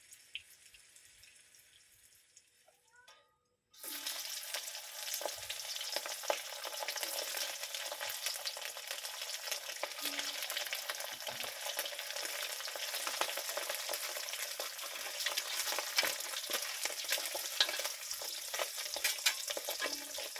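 Supermi-coated rambutan balls stuffed with sausage fry over a low flame until crispy. After a quiet opening, a loud, dense oil sizzle starts abruptly and crackles on steadily and close, with no talk.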